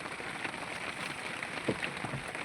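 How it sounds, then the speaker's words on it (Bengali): Rain falls during a storm on a fishing boat in the Sundarbans, making a steady, even hiss with no pauses and no voices. "ঝড় বৃষ্টি তো হচ্ছে বুঝতেই পারছেন তার সঙ্গে যথেষ্ট পরিমাণে ঝড়"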